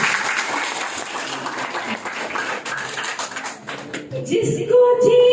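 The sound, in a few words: audience applause at a devotional gathering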